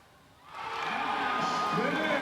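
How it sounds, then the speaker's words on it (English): Crowd roar rising from a quieter start to a sustained, loud swell of cheering at a high school basketball game, with a commentator's voice running over it. "Listen to the crowd here."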